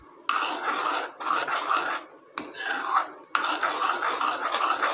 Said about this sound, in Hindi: तो लगातार हम चला रहे हैं।